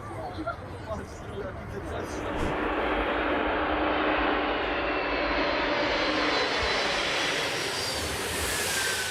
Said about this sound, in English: The AN 225 literally cleans up the sky by cutting through the fog.